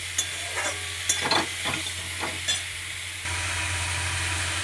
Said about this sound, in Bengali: সবজিটা ভালো করে কষবো সব কিছু মশলা দিয়ে